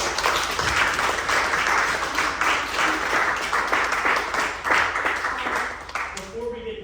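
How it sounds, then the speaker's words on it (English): Audience applause after a local history talk, a sustained wash of clapping from a room of listeners, steady and moderately loud, fading at the end with a voice underneath. "let's give a round of applause"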